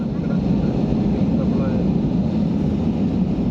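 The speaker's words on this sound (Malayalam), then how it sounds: "ഇത് ലാൻഡ് ചെയ്യുകയാണ്" Steady, loud airliner cabin roar with deep low rumble as a flight descends to land at Auckland Airport, continuous and unbroken throughout.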